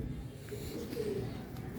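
Soft cooing from a flying pigeon kept in a loft, low murmuring calls repeating faintly close by against steady background noise.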